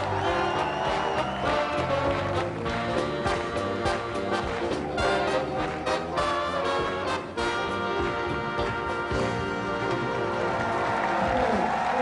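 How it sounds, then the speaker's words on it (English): A crowd applauds steadily and loudly at the 2000 World Amateur Ballroom (Standard) Championships, the clapping continuous throughout and blended with dance music playing in the hall. "listen to the response from the crowd"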